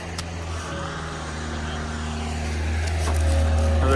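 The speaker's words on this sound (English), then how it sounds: "Another car coming out." An old car pulling out of a long-neglected Canadian towing yard, its engine rumbling low and close and building steadily as it accelerates, with speech in the background.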